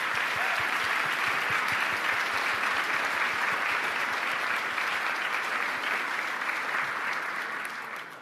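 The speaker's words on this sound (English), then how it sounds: "Give them another round of applause." Conference audience at a Munich Security Conference session gives steady, sustained applause for four speakers on stage, an even roar of many hands that begins to fade near the end.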